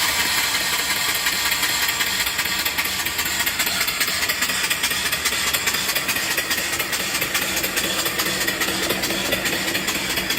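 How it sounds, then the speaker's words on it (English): A mill steam engine runs on compressed air, turning over with a steady close mechanical chuff and light rattle, an even, unbroken rhythm that stays loud throughout with no voices. "Beautiful engine. Ran the first time on air, first time I put air to it."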